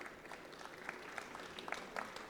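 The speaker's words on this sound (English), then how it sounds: "a round of applause" Faint applause from an audience at a jewellery industry session in Bengaluru, a thin scatter of claps lasting a couple of seconds with no voices.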